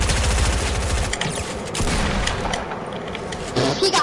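Submachine gun fire in a squad-based video game, a loud rapid burst of shots for about a second, then scattered shots and rumbling booms, with another short burst near the end.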